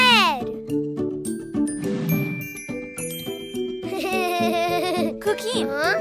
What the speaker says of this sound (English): Let's play with the colorful Christmas bells.